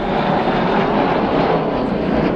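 The Avro Vulcan XH558 bomber roars through a flying display at the 2009 East Fortune Airshow. The jet engines make a loud, dense, continuous broadband rumble with no talk over it.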